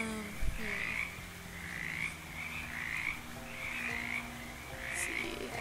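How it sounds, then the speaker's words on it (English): A frog croaks in the Shadows Over Loathing video game, giving about five evenly spaced, throaty calls over a low ambient background, alone without any voices. "Frog seems to say, hello?"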